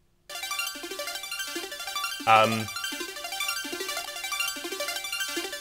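A looping replayed house music sample of a track, with repeating synth stabs in a steady rhythm, briefly interrupted by a short, louder burst in the middle.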